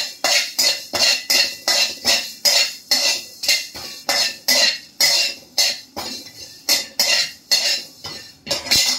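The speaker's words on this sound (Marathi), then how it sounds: "हे पण आपण आता छान भाजून घेऊया." Whole spices, including cinnamon, star anise, cloves, black peppercorns and fenugreek seeds, are dry-roasted in a pan, stirred in a steady rhythm of repeated scraping, rattling strokes, close and fairly loud.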